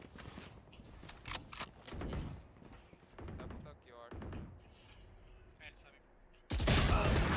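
Gunshots in the tactical shooter Valorant ring out as a handful of sharp, separate cracks spread across several seconds, mixed with game sounds and a player talking. A louder burst of noise comes near the end.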